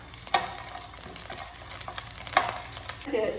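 Cashew nuts and raisins sizzle in hot ghee in a pot for Kerala-style chicken biryani, with steady close frying crackle and a few clinks of a spoon stirring.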